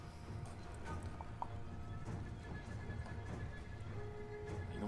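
In a fantasy pitched battle game with elves, Northmen and horse archers, horses neigh over a dense, rumbling battle din with hooves and clatter, moderately loud and continuous throughout.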